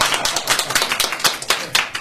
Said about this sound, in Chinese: 另外就鼓掌吧